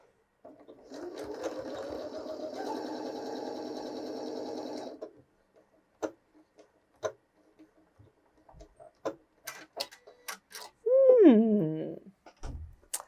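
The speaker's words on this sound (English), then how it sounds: "It is an automatic lock stitch where it does the first automatic lock stitch by itself, and then you're going to trigger the ending lock stitch" A Janome 6700P sewing machine runs an in-place lock stitch, a short whirring burst rising in pitch, then sparse clicks and taps, ending with a brief higher whine.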